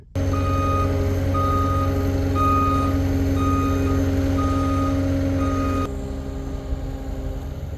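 Reversing alarm on a skid steer loader beeps in a steady repeating rhythm over a loud idling diesel engine on a farm, the beeping stopping near the end while the engine keeps running.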